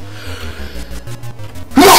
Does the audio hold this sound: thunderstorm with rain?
no